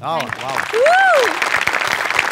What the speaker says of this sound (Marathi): ताईच्या बेरिंगसाठी जोरदार टाळ्या झाल्याच पाहिजेत